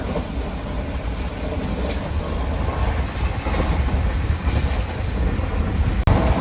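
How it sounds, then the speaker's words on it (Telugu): A Secunderabad–Tirupati Vande Bharat Express train passing close by on a line before Ongole, a loud continuous rumble and rush of wheels and air filling the whole stretch with faint clickety-clack. "సికింద్రాబాద్ తిరుపతి వందే భారత్ ఎక్స్ప్రెస్ ఇప్పుడే వాళ్ళని క్రాస్ ఓవర్ చేసుకుంటూ వెళ్ళిపోయింది."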